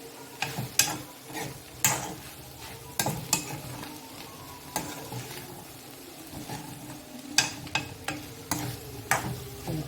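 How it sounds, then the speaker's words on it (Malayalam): Okra stir-fry with a pinch of asafoetida powder is stirred in a pan, giving repeated sharp scraping strokes in an uneven rhythm over a low sizzle, close and clear with no talking. "ഒരല്പം ഒരു കായംപൊടി കൂടി ചേർത്ത് ഒന്ന് പൊടിയൊന്ന് ഇളക്കി കൊടുക്കുക"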